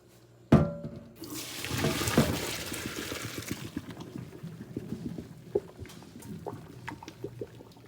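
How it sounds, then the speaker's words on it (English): Boiled pasta water pours into a sink, starting with a sudden splash and a loud rush that settles into gurgling, trickling drainage with scattered drips. "So right now we're going to drain the pasta."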